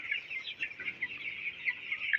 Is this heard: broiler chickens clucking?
yes